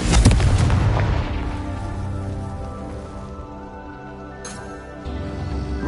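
A Confringo blasting spell in the Hogwarts Legacy video game erupts in a loud booming burst at the start, its rumble decaying into a sustained crackling wash before a second surge near the end.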